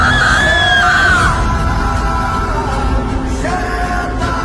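A voice screams at night in a forest in a cartoon story, a long, loud, wavering cry rising and falling over background music for several seconds.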